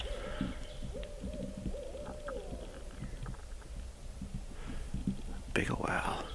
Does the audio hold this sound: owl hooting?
yes